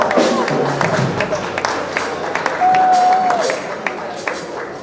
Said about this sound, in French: Je veux une acclamation cette fois-ci.